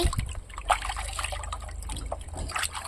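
Water trickles and splashes in short, uneven bursts as it is poured during a child's bath, with a low background rumble and no clear speech.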